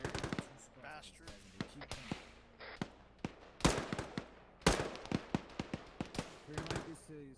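Gunfire rings out in a military video game: single sharp shots and short bursts crack in an irregular rhythm, some near and loud, others fainter, with a brief voice in the mix.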